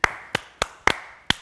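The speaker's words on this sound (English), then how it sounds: "This deserves a slow clap." Five slow, evenly spaced hand claps, crisp and close, each landing about a third of a second apart with short decay and silence between.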